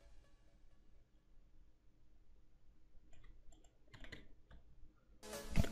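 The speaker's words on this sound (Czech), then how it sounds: "A doufám, že není slyšet klávesnice ani myš." Computer keyboard typing and mouse clicking in quiet, scattered clicks with short bursts, growing a little busier toward the end, with a louder clatter at the close.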